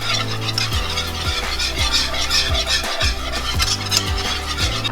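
Flour is whisked into hot grease in a pan for gravy, making a steady, rhythmic scraping and swishing with regular strokes over a low sizzle, close and continuous throughout.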